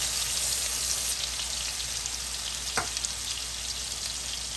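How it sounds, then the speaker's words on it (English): Swai fish and smashed peppers pan frying, a steady dense sizzle that holds at an even level throughout, with one brief sharper crackle near the middle. "we just got our little pan fried dinner here tonight"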